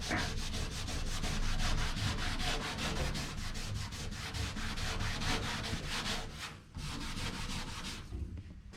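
A rag scrubs with grease remover at sticker residue on a Chevrolet floor, a close, rapid back-and-forth rubbing that runs steadily for about eight seconds with a brief pause near the end.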